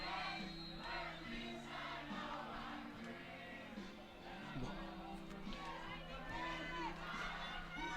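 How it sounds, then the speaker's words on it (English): A crowd at a high school football game between Pinecrest Academy and Brookstone School cheers and shouts from a distance, a busy wash of voices and calls that rises and falls, with a faint steady hum underneath. "Crowd getting patriotic here, cheering on their team."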